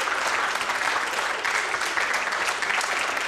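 Sustained applause from an audience at a regional school quiz semifinal in Riga, many hands clapping in a thick, even roar that holds steady from start to finish.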